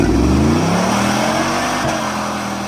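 A loud Camaro engine revs hard and holds high under strain during a burnout in the rain, with a rough roar and tire noise that slowly eases off.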